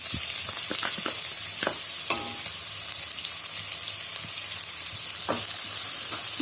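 Finely chopped onion sautés in hot oil for a soya chunk kurma, a steady broadband sizzle broken by a few sharp scrapes and clinks of a spoon against the pan.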